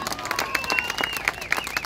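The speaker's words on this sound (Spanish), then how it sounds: "Un fuerte aplauso al movimiento campesino." A crowd at a political rally in Nicaragua claps briefly while piercing whistles ring out repeatedly over the applause.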